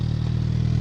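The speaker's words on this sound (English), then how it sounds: "I think that's the perfect sound for a stock exhaust" A Suzuki GSX-S1000 motorcycle with an Akrapovic slip-on exhaust idles close by with a steady, rumbling, evenly pulsing low tone.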